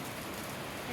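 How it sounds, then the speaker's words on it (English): Rain begins falling during a Kansas summer thunderstorm: a brief, soft, even hiss of drops hitting outdoor surfaces. "Here comes the rain."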